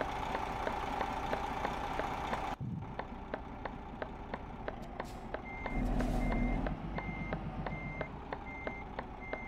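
Truck reversing beeps in a truck-driving video game set in Greece: a steady, evenly spaced electronic beep repeating throughout over a constant low diesel engine hum, with a brief rise in engine noise midway.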